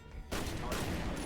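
Gunfire in F.E.A.R. Perseus Mandate arrives as a sudden dense burst of shots that keeps on as a continuous loud roar of fire, following a brief quieter moment.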